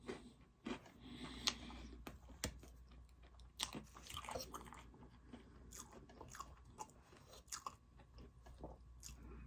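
Birthday food eaten close to the mic: crunchy bites and wet chewing in an irregular rhythm with soft scraping and quiet pauses, no talking.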